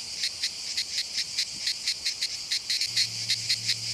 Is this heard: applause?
no